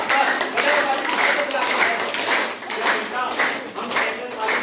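Schoolgirls at a Jain girls' intermediate college clap their hands together in a dense, rapid group burst, loud and close, with some voices mixed in.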